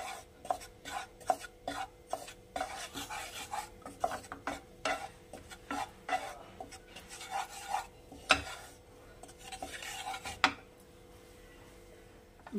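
Gram flour dry-roasting in a pan is stirred with quick, irregular scraping rasps. The strokes are soft and close, separated by brief pauses, and no one speaks.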